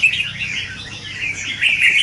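A caged red-whiskered bulbul sings a continuous run of bright, rapid chirps and warbling phrases, close and fairly loud with no voices.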